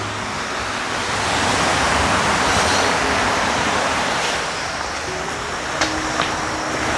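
Sea waves wash in a steady broad roar, swelling slightly midway, with a windy rush over the microphone and no voices.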